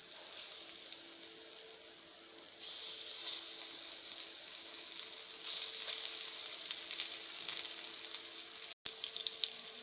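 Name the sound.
chicken popsicles frying in oil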